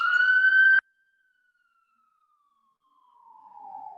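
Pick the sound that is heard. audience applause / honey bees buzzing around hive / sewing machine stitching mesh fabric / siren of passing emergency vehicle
siren of passing emergency vehicle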